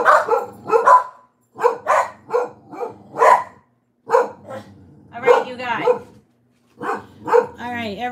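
Several dogs being walked outdoors barking in short loud bursts between pauses, close by, with a person talking and exclaiming among the barks.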